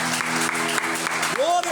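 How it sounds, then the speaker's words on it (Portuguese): Church congregation clapping steadily and loudly during a worship service, dense applause with a sustained sung or spoken voice carrying over it near the end. "aplauda bem forte o nome do Senhor"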